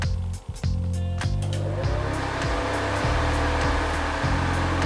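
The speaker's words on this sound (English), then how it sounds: "But if I actually go ahead and turn the PC on" An old desktop PC powering on, with loud fans spinning up into a constant roaring whoosh after a few clicks and thumps at the start, plus a low periodic thumping hum running underneath, close and steady.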